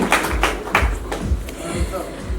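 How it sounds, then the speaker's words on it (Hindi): Clapping from the audience at a 31st wedding anniversary celebration for a businessman, a few sharp claps and taps over low rumble with a voice audible in the background. "Sir, के लिए एक बार जोरदार वाली तालियां हो जाए"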